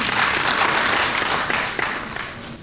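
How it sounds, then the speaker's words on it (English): An audience bursts into steady, dense applause at a presentation of 2018 primary leaving exam results, clapping filling the whole stretch before tapering slightly toward the end. "I think that deserved a clap."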